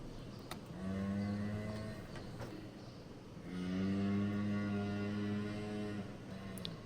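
A cow in pain moos during hoof trimming of a damaged hoof, giving two long, loud, low bellows separated by a short pause, with no talking.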